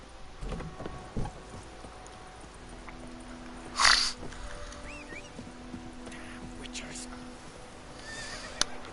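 Short horse whinny mid-clip amid quiet ambience in the video game The Witcher 3: Wild Hunt, with faint scattered clicks and thumps around it.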